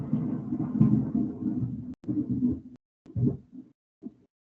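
Deep thunder rumbles in a low, rolling swell that breaks off abruptly, then returns in a few shorter, fainter bursts with gaps of silence between them.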